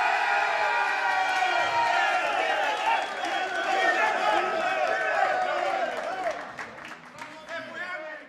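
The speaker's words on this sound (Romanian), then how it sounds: "Mai multe aplauze!" Crowd applause and cheering at an RXF mixed martial arts cage fight event, a broad roar of clapping and shouts filling the arena, easing slightly midway and fading toward the close.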